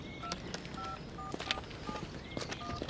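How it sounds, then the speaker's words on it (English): A telephone is dialed, with a string of brief touch-tone beeps at an uneven pace, quiet under a steady background hiss. "Kelly, get off the phone."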